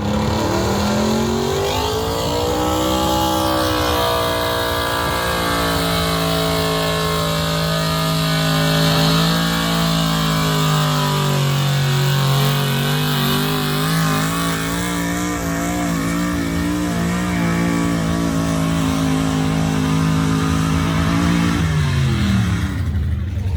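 Heavy truck engines roar and rev continuously at a truck pull, the pitch rising and falling under load for over twenty seconds, loud and close, before winding down at the end.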